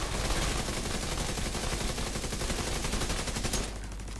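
Rapid, dense automatic gunfire from the capacitor weapon in the video game The Division 2, a steady loud stream of shots that continues for about three and a half seconds before dropping to a quieter background.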